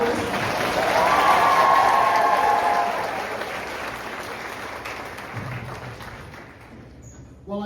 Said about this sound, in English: One more round of applause for our soloist